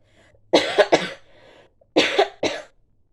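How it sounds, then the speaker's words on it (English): Two separate bursts of harsh, chesty coughing, each a quick double hack, close and loud, with a short quiet gap between them. "I feel like I'm coughing up a lung."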